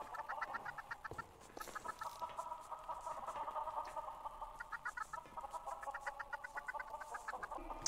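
Blocky game chickens cluck in quick repeated bursts, several birds overlapping with steady short calls through a continuous game background, close and fairly clear.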